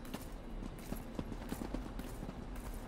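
Horse hooves clip-clop at a steady trot while riding in a video game, a quick rhythmic run of hoofbeats over a continuous background bed at moderate loudness, with no talking.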